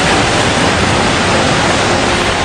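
Floodwater surging along a road in Delhi after heavy rain, a steady, loud, broadband rushing roar that continues without break and with no voices over it.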